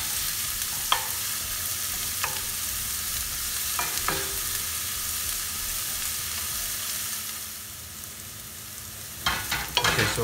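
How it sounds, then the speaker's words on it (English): Celery cooks in oil in a pan with a steady, moderate sizzle, broken by a few sharp scraping stirs and a cluster of clattering utensil knocks near the end. "To this I'm going to add some celery and let it cook for a minute so the celery sweats and absorbs some of the oil."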